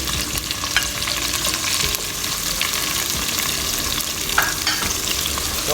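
Tomatoes sauté in a pan for ginisang mustasa with beef giniling, a continuous loud sizzle broken by scraping stirs, close up with no talk.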